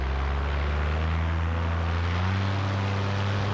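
Paramotor engine with a bad tune bogging under throttle during takeoff, a loud, steady droning propeller roar with a low pitch that sags slightly partway through, heard close and alone.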